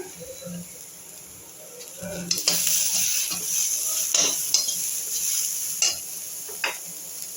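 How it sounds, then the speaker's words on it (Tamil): Green chili and curry leaves sauté in a pan. After a quieter start, a loud, steady sizzle breaks out, with repeated scraping stirs and a few sharp clinks of a utensil against the pan. "இதோடையே ஒரு பச்சை மிளகாய், கருவேப்பிலை போட்டு வதக்கலாம்"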